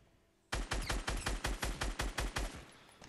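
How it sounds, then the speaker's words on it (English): Rapid gunfire in a Fortnite gunfight at Tilted Towers: a loud, close burst of about a dozen evenly spaced shots after a brief quiet start, ringing with sharp echoes and no talking. "Oh, he's in a gunfight with somebody."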